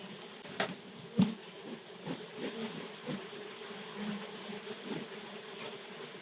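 Wild bees buzz around a nest inside a kitchen cupboard, a dense low droning hum with many wings close by, punctuated by a few brief louder passes and soft knocks.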